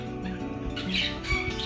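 A pet bird in a kitchen gives a few short, harsh squawks over a quiet, humming indoor background, fairly close but moderate in level.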